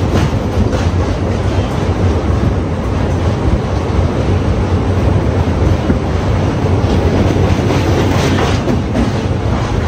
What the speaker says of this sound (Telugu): ఇదిగోండి మన పక్కన ఉంది కదా ట్రైన్, ఇది వచ్చేసి కాకినాడ పోర్ట్ నుంచి చెంగల్పట్టు జంక్షన్ కి వెళ్ళే సర్కార్ ఎక్స్ప్రెస్ అన్నమాట